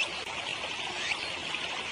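A cartoon river flows in a steady, fairly quiet rush of water, with a soft trickling texture and no voices over it.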